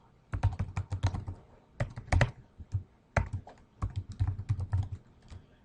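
Rapid bursts of clicking on a computer keyboard while an email address is entered, close and clear, with short pauses between flurries of keystrokes and no talking.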